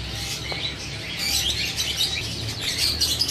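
Java sparrows chirping in an indoor breeding room, with busy, overlapping high tweets from a colony kept at moderate distance, steady throughout with no talking.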